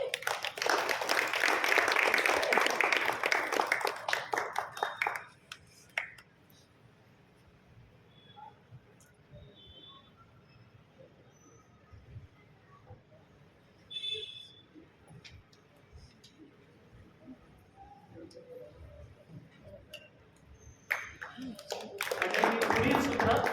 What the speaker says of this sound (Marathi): आपण टाळ्या वाजवून त्यांचं स्वागत करूया